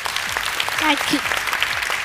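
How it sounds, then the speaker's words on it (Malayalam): Studio audience in a comedy television show applauds a girl's song, a close, steady burst of clapping, mixed with voices from the stage. "മോളുടെ പാട്ടിന് ആദ്യമേ തന്നെ ഒരു ഉഗ്രം കൈയടി കൊടുക്കും"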